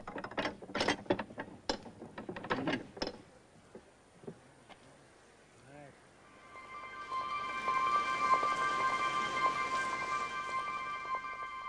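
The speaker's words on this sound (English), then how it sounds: "Krishna has to get up to close the sluice gate against the tide." A sluice gate on the Guyana coast is closed against the tide: a run of loud metallic clanks and knocks, a short pause, then a steady grinding mechanical whine with a high squeal that carries on to the end.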